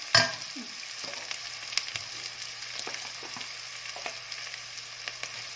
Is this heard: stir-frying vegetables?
yes